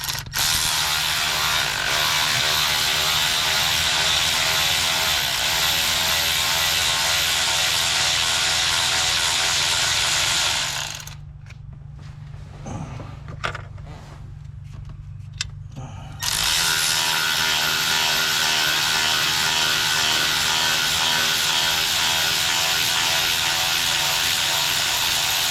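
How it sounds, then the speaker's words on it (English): An electric ratchet spins out the mounting bolts on a 7.3 Power Stroke diesel, a loud, close, continuous whirring mechanical drone that drops away briefly for a few seconds of quieter clicks and handling before resuming. "I'm using this on the electric ratchet on the mounting bolts"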